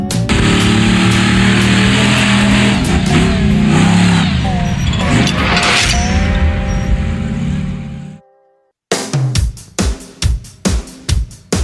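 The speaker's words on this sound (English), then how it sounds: "And monster trucks." Monster trucks roar and rev loudly at a live show, engines surging and swelling for several seconds before cutting out, followed by a run of sharp, punchy bursts.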